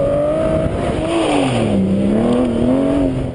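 An Aston Martin V12 Vantage with a Flowmaster exhaust drives at full throttle, its V12 snarling loud and close as the pitch climbs, dips and climbs again, with no talk over it.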